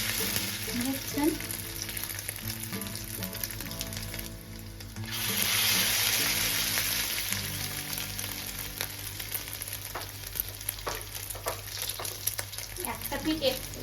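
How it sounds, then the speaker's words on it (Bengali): Chowmein pakoda balls sizzling as they are dropped into hot oil, a steady crackling fry that swells briefly midway, with soft kitchen clatter and faint background music. "তেল গরম হয়ে গেছে, এবার আমি এটা তেলে ছাড়বো"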